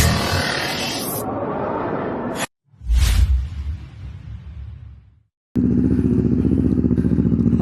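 A loud, raspy Kawasaki Z650 motorcycle engine, with its exhaust pipe removed, revs and idles harshly, broken by a sudden cutout and a whooshing clatter before the rough engine noise returns.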